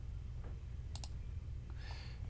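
Two quick mouse clicks land close together on a computer running estimating software for aluminum storefronts, then a softer click follows, all over a steady low background hum with no talking.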